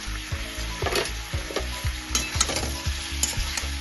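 Chillies being stirred and fried in a pan while cooking a silver carp fish curry, with repeated scraping strokes of a spatula against the pan over a steady close sizzle of hot oil, no speech.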